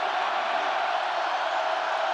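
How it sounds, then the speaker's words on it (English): A Penn State home football crowd against West Virginia roars steadily in the stadium, a broad, even wash of distant cheering that builds as the play clock winds down. "You hear that crowd ramping up."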